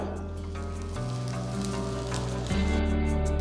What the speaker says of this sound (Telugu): ఇప్పుడు నేను దీంట్లో కొంచెం ఇంగువ వేస్తున్నాను